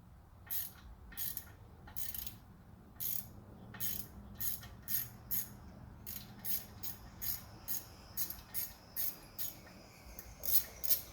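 A hand ratchet with a T27 bit loosening a brake fastener on a Cadillac SRX during a brake and rotor job, a rapid run of crisp metallic clicks in short bursts, close and steady.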